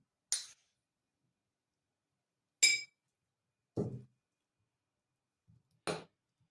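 A few separate bright clinks of a spoon against a glass jar, spaced out with quiet gaps, plus a couple of duller knocks.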